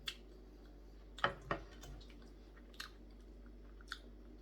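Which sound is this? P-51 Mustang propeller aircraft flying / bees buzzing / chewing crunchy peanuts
chewing crunchy peanuts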